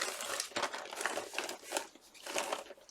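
A plastic bag stuffed with paper scraps gets handled up close, giving bursts of sharp crinkling and rustling in uneven pulses, each one loud and then easing off.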